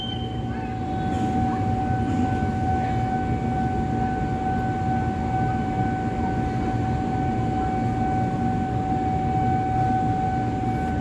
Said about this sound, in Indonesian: KRL komuter lain TM 6000 dari stasiun Jatinegara. Masuk di jalur 6 stasiun Pasar Senen.